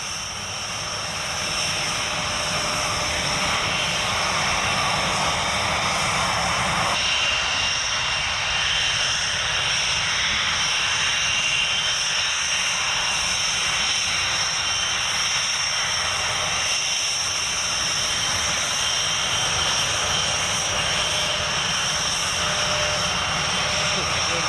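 Tornado jet aircraft with engines running on the runway at RAF Marham, a steady loud broadband roar and high whine that holds throughout, with radio voices over it.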